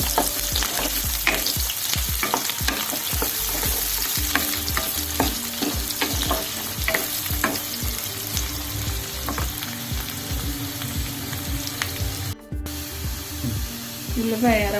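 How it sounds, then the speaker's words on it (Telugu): Onions sizzle steadily in hot oil in a pan for chilli chicken, a dense, continuous frying hiss broken by frequent stirring scrapes. The sound stays close and loud throughout, with a brief dropout near the end. "ఉల్లిపాయలు వేస్తున్నానండి. ఇది ఎర్రగా వేగాలి."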